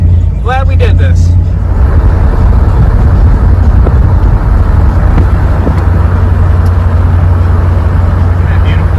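An old truck with new suspension drives down a road, producing a loud, steady low engine and road drone that continues throughout. A voice is heard briefly near the start.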